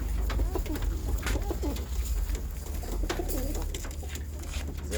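Pigeons coo steadily at a bird shower, several overlapping soft calls close by over constant low rumbling background noise, with wing flutters and shuffling between calls.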